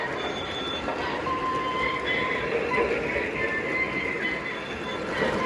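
An O-gauge model train rumbles continuously along the track with a steady roar and faint metallic squeals from the wheels.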